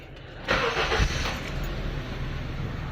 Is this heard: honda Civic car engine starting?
yes